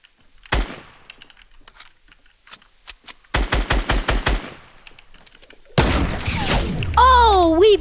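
Gunfire from a shooter video game: a lone shot early on, then a rapid burst of about seven loud shots, followed by a dense stretch of firing and effects, with a player talking between the bursts.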